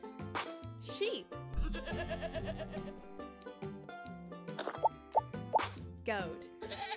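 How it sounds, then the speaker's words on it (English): A sheep bleats with a wavering, shaky tone, loud and close, over playful background music and plinking effects in a children's animal-learning game. "Sheep."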